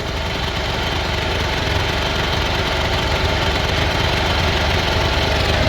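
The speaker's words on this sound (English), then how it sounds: "The generator is getting the heat on. It's sucking the power." A generator engine under welding load gives a loud, steady, unbroken drone with a rough mechanical rumble, holding constant without pauses.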